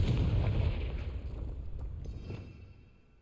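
Spell blasts from Incendio and Confringo in the Hogwarts Legacy video game, a loud booming burst with rumbling low end that rolls on and slowly fades over a few seconds, with no talking.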